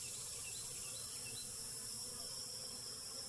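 Honey bees from a late-season caught swarm buzzing around a box, a steady close hum with several individual bees flying past, no voices.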